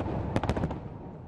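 New Year fireworks over Red Square in Moscow, a quick cluster of several sharp cracking bursts in rapid succession, heard from a distance over a low background rumble.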